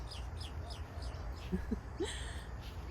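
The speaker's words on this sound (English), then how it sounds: "Yes, bird, I'm talking here." A small bird chirps in a short series of high repeated calls, followed by a few lower whistled notes, moderately close against a steady indoor hum, with no talking over it.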